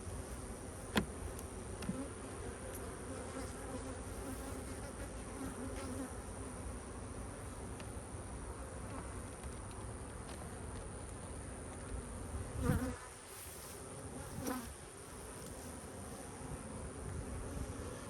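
Honey bees buzz steadily around an open hive in a cow pasture apiary during a box change and super addition, a dense continuous drone at moderate level with a few brief bumps and handling knocks.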